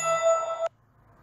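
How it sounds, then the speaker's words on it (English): A smartphone sounds a sustained bright electronic chime, triggered remotely from a NUT keyring locator, ringing clearly for about half a second and then cutting off abruptly to near silence. "Press the nut twice, and then my phone makes a chiming noise."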